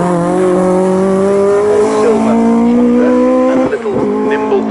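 Touring race cars at Snetterton, including a white Peugeot 106 with red bumpers, scream past in a close battle for position, engines loud and sustained with steady high revs and gear changes throughout.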